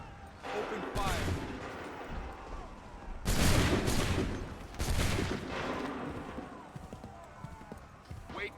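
A musket volley in an Assassin's Creed video game, several loud cracking bursts of massed gunfire spread over a few seconds, with voices and clip-clopping hooves in the background.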